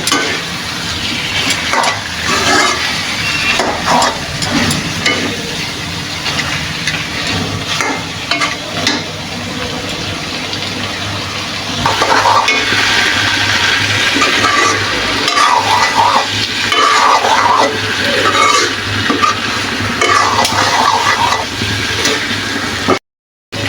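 Chicken and potatoes stir-fried together in a pan, giving a steady sizzle throughout with repeated scraping and clinking from stirring, close and fairly loud, with no talking.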